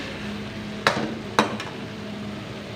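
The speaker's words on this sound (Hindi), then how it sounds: "अब हम अच्छे से भुनाई करेंगे।" Softened vegetables being stir-fried in a pan for keema and mixed vegetable macaroni: a low sizzle beneath two sharp knocks of a spatula against the pan and a fainter third tap, close by.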